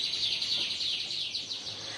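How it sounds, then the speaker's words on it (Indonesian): Small birds chirp and sing continuously in a quiet room, a bright steady twittering with no voices. "Kak Reta ditemenin suara burung gak apa-apa ya."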